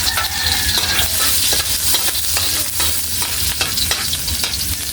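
Onion sautéing in a pan for corned beef with potatoes, a loud, continuous close sizzle with steady scraping stirs throughout, no voices.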